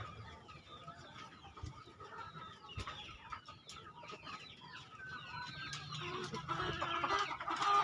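Chickens in a coop and a young rooster just over seven months old cluck and murmur continuously, with soft calls building and growing louder toward the end, close and busy, with no talk.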